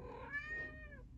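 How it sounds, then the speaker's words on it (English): A domestic cat gives a single drawn-out meow, close and clear, with a rising then falling tone over a quiet room background. "That's my cat."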